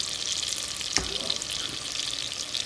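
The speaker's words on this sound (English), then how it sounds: "You want to saute that a little bit. You want to add some garlic." Shallots and garlic sautéing in a pan for shrimp linguine, a constant close sizzle with a brief thump as something is stirred or added.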